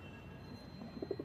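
Hyderabadi pigeons give a few soft, low coos near the end, close by over a steady murmur of background noise.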